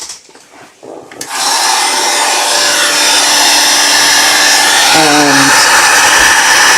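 A heat tool switches on and blows a loud, steady whooshing roar while drying a stamped wedding card, following a brief spoken word at the start.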